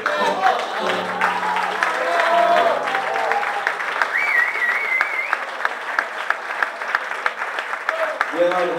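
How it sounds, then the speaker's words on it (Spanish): An audience applauds after a live guitar trio performance, sustained dense clapping throughout with voices and cheers mixed in beneath it. "Fuertes aplausos para nosotros."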